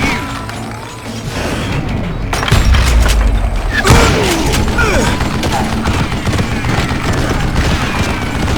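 Gunfire and booms fill a fight in the Western shooter game Call of Juarez Gunslinger, with loud heavy thuds and blasts over a constant rumble of battle noise, and a voice is heard briefly.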